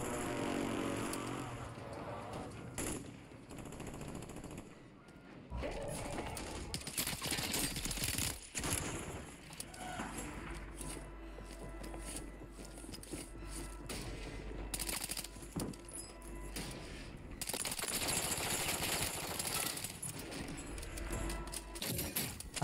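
Sustained automatic gunfire in a Warzone match with a Chimera SMG, dense bursts of rapid shots with brief pauses, loud and close over game ambience.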